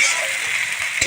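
Onion and tomato frying in a pan produce a brief, soft, close sizzle with faint stirring.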